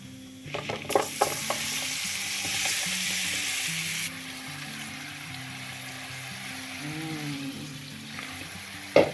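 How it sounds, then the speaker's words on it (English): Shrimp hitting a hot pot for Jamaican curried shrimp sizzle loudly and steadily. A few clanks of a utensil against the pot punctuate the hiss, which eases slightly partway through and continues without talk. "And now I'll be adding my shrimp to the pot."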